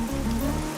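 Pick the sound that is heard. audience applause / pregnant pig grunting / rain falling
rain falling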